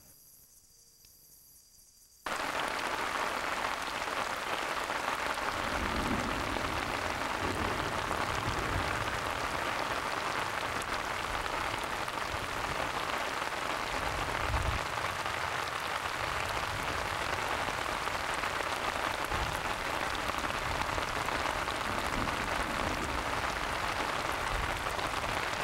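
Steady rain pattering down over a mud frog egg chamber in a Paraguayan outdoor setting, a constant dense hiss of drops beginning abruptly after a quiet moment, with faint insect chirping mixed in.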